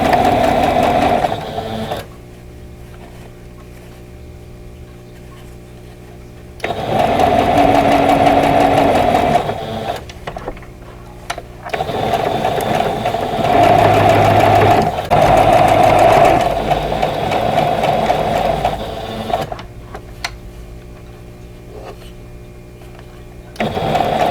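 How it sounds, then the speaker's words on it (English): Sewing machine stitching a vintage-style Summer Star quilt block, running in long steady bursts of rapid mechanical whirring with brief quiet pauses between seams. "So now I'm going to sew the other side."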